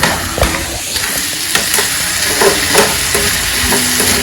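Steady hot-oil sizzling and crackling close by as spices are tempered in the pan, with occasional clinks and scrapes of stirring.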